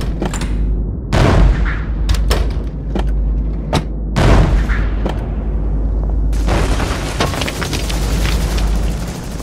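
Animated toy army men bombarding a fortress: repeated booming cannon blasts and gunshots, loud and close, scattered irregularly before turning into a denser, continuous volley of fire.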